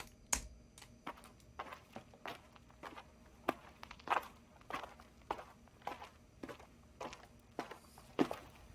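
Footsteps designed as a sound effect in REAPER tap out in a steady rhythm, around sixteen crisp, close, light steps evenly spaced over a quiet background.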